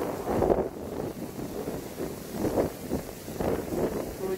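Wind buffets the microphone in gusty, low rumbling bursts, steady throughout with a few stronger surges.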